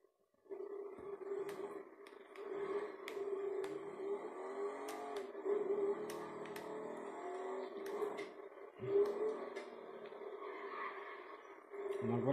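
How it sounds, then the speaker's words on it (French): A rare motorcycle in the GTA video game drones with a sustained engine tone that swells and revs in waves, with light ticking clicks over the top and no talking. "Donc voilà une moto très rare"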